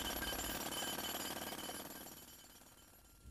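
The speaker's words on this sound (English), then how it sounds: "The pneumatic drill is very effective in breaking up road surfaces." A pneumatic drill pounds a road surface in a rapid, steady hammering rattle, loud and close, easing slightly toward the end with no voices.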